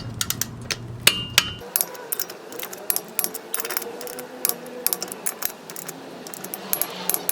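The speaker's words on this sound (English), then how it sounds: "Now we can go around and torque all the wheel nuts up to spec." Torque wrench tightening the wheel nuts on a car, clicking and ratcheting in a rapid series of sharp metallic clicks and knocks heard up close, with no voices.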